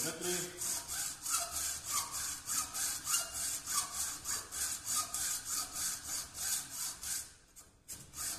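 A metal caliper is cut by hand with a saw blade. Steady back-and-forth rasping strokes repeat in a quick, even rhythm for most of the clip, then stop briefly near the end before one more stroke.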